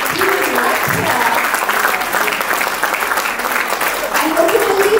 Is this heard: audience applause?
yes